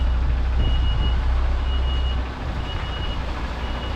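An HGV truck reverses into a yard with evenly spaced reversing beeps sounding over the steady low rumble of its engine.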